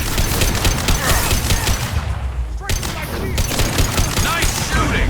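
Sustained rapid gunfire during a Mass Effect 2 squad firefight, loud and continuous with a brief lull midway before the volley resumes.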